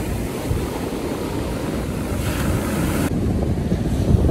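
Strong wind and crashing surf roar on a beach in a storm, loud and continuous with heavy gusting rumble against the microphone and no pause throughout.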